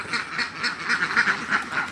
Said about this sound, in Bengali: দেখেন কাছ থেকে দেখাই কত হাঁস।